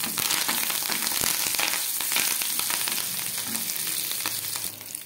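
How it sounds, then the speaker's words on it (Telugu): Dried red chillies, mustard seeds, cumin and curry leaves fry in hot oil in a kadai as a tempering for coriander tomato chutney, a loud, continuous crackling sizzle with sharp popping spatters throughout, close up and with no voices. "కడాయిలో ఆయిల్ వేసి కాగాక ఎండుమిర్చి, ఆవాలు, జీలకర్ర, కరివేపాకు వేసి బాగా ఫ్రై చేసుకోవాలి"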